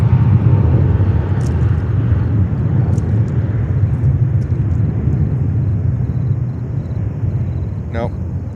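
A Cathay Pacific jet airliner at JFK airport in New York gives a loud, steady low engine rumble that eases slightly toward the end, with a brief chirp over it at the close.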